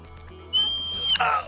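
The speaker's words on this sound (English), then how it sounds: "I have a slide whistle." A slide whistle plays in a quiet room: a rising, steady whistled tone holds for about half a second, then breaks into a bright, louder squeal near the end, with no talking over it.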